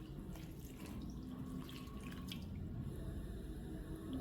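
Water from a cup splashes into a bowl of flour while chin chin dough is being mixed, a soft continuous pour with faint drips at low, steady level.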